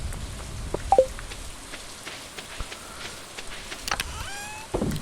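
Steady rainfall patters across the whole stretch in Stardew Valley, with scattered drips and a couple of brief electronic chimes near the end, no one talking.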